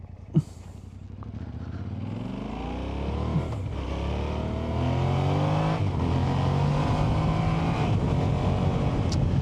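A 2024 Yamaha Tenere 700 motorcycle pulls away after a turn on the road, its engine note rising steadily through acceleration with harmonic sweeps, loud and close, with steady wind rush and no talk.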